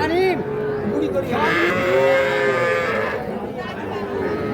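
A cow moos at the Ambari cattle market, where small bulls and heifer calves are sold, in a long, close, fairly loud call with wavering pitch that runs through most of the moment over a steady murmur of market crowd noise.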